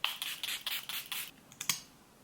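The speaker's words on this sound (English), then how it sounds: "I'm gonna spray some Milani Make It Last." A rapid series of short, crisp bursts of Milani Make It Last setting spray, about eight quick hisses in a row, then a final puff and quiet.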